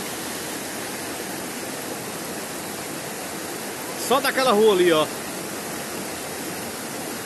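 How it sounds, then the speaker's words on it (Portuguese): Floodwater current after heavy rain rushing down a street on Rua Q, Alto dos Poções, Januária, a steady loud broadband roar throughout, with someone speaking briefly over it near the end. "O que que aguenta essa correnteza aqui?"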